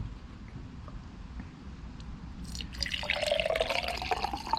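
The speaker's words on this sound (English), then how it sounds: "Go ahead and pour some in there. Just pour." Liquid is poured into an open cylinder on a 1967 Mustang engine, a faint trickling splash that starts partway through after near silence and continues steadily to the end.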